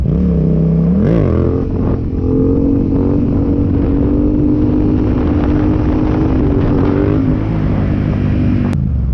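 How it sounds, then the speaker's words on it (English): A street motorcycle in second gear at about 20 to 25 mph, accelerating for a wheelie: a loud, steady engine drone with pitch swells as the throttle opens, ending in an abrupt cut. "I'm going to go second gear about 20 miles an hour, clutch in on the gas, clutch out"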